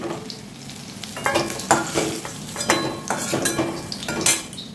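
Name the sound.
potatoes frying in oil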